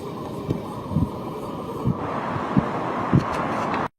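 A ScotRail train idles at Dundee station before departing, with a steady broadband rumble, occasional low thumps and a shift in engine tone halfway through, heard alone with no talk.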